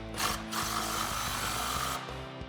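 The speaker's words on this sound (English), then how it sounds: "I'm gonna snug up the nuts on the passenger side first." A tool tightens the exhaust nuts beside the O2 sensor under a 1999-2004 Ford Mustang GT, a close, continuous grinding and ratcheting whir lasting about two seconds, with no talking.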